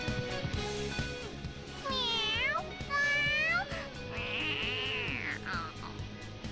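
A cat meows in the video game Persona 5: a few drawn-out, rising and falling meows and a longer cry, heard clearly over steady background game music.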